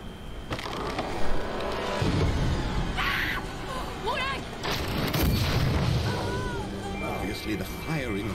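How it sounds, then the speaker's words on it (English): Grave guns firing in a scene from the TV show Good Omens, muffled booms and bursts mixed with crowd noise and voices, heard through a reaction recording with people talking over it. "The firing of the grave guns alerted the local watchman."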